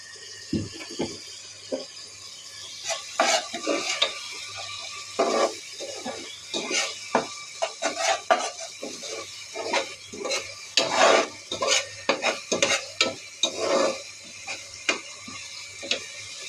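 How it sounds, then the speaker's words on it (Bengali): Powdered spices (turmeric, chili, coriander) sautéed for chicken curry, with irregular scraping strokes of a spoon in the pan and soft sizzling, close and fairly loud, coming in quick bursts throughout. "এখানে মশলাটা কষানো হচ্ছে"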